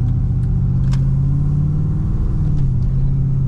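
A cammed LS1 V8 in an SS Commodore pulls up to about 2000 RPM under light throttle, giving a steady, loud, close-up low rumble with a choppy lope that holds its level throughout.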